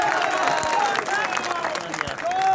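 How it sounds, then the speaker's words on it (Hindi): A rally crowd applauds to welcome a speaker, scattered clapping and crowd noise running throughout with faint cheering, partly under amplified talk from a voice on the public address. "जरा जोरदार तालियां बजाकर स्वागत करें"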